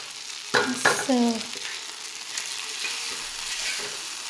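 Fish frying in a pan gives off a steady close sizzle for the whole stretch, with a few short tonal scraping sounds near the start.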